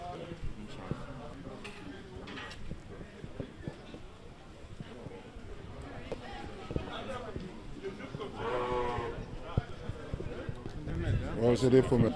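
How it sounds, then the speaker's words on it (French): Ewes, young breeding sheep of a good bloodline including an eight-month-old ewe lamb, bleat intermittently at a livestock gathering ahead of Tabaski, with louder calls near the end amid constant nearby chatter and crowd noise. "c'est des femelles, c'est des brebis."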